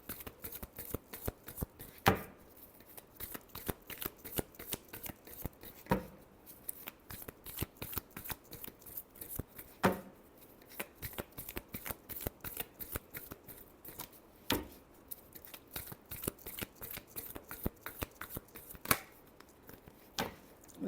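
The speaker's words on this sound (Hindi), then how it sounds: "Last shuffle." Tarot cards being shuffled by hand, a long run of quick, soft riffling flicks with occasional sharper snaps, close and fairly quiet.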